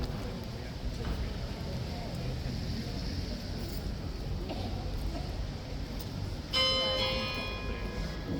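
A bell rings out at Horse Guards at 10 a.m., its clear ringing tone entering late over steady outdoor crowd murmur and street noise.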